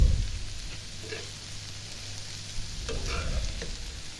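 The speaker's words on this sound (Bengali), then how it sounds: "সিদ্ধ কিন্তু হয়ে গেছে প্রায়, আর একটু ভাজা ভাজা করবো একবারে" Shredded cabbage fries in a pan with almost no water left, giving a continuous close sizzle with occasional scraping stirs.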